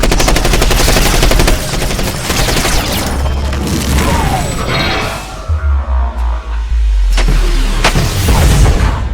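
Rapid machine gun fire in the video game Front Mission Evolved, loud bursts of repeated shots with booming impacts, a short pause midway, then more firing.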